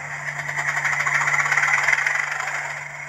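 Hornby TTS sound-fitted Class 31 OO gauge model locomotive playing its diesel engine startup sound, a steady loud rumbling engine drone with rattling texture, running alone throughout.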